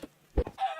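A chicken in the Minecraft video game gives a few short, close clucks, with brief gaps between them and no talk.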